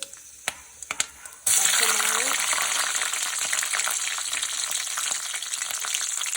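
Ginger and garlic drop into hot oil that already holds popping mustard seeds. A few scattered pops give way to a sudden loud burst of sizzling that settles into a steady, close, crackling fry.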